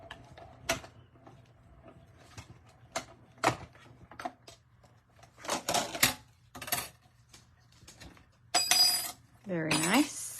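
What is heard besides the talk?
mini emboss machine cutting a heart from coral cardstock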